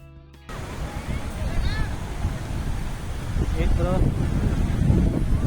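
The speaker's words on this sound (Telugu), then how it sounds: "ఎలా ఉంది బీచ్?" Wind buffets the microphone at Gopalpur beach while ocean surf rolls in a steady, rising wash; a voice speaks briefly over the roar.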